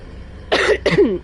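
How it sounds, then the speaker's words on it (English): A character in the video game Hogwarts Legacy coughs twice in quick succession, both coughs close and loud, following a quiet moment. "Seem to have a bit of a cough today."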